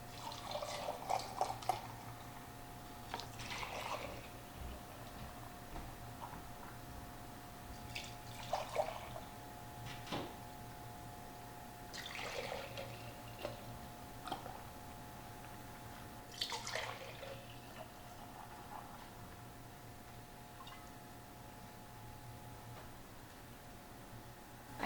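Homemade low-waste liquid dish soap trickles and splashes into jars in brief, irregular pours with quiet gaps and clinks between them, heard close and fairly faint.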